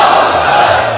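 A large crowd at a Pakistani religious rally roars a slogan back in unison, a loud, brief burst of massed shouting voices answering a speaker's call.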